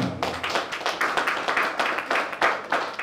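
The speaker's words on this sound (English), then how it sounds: "A round of applause for this man." Applause for a company chairman at a formal event, a dense round of close clapping from a small crowd in quick uneven bursts, loud and sustained for about three seconds with no speech.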